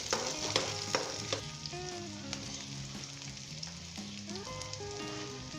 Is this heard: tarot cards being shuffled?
no